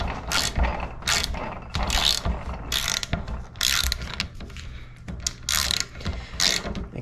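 Ratchet wrench tightening a Snap-on socket, repeated bursts of quick metallic clicking strokes at close range, each burst a second or so long with short pauses between.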